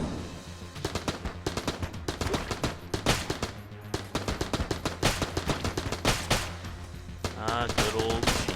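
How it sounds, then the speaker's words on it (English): Rapid machine gun fire in the video game Enter the Gungeon, loud dense bursts of automatic shots with brief pauses between volleys, set over game music. "Good old machine gun, or gun, I should say."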